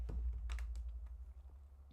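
Typing on a computer keyboard: a short run of light, irregular key clicks, loudest at first and then thinning out, over a low steady hum with no speech.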